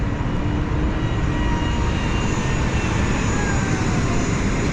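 A jet aircraft engine at Glasgow Airport, a steady, loud, broadband roar with a faint whine running through it, unbroken throughout with no talk over it.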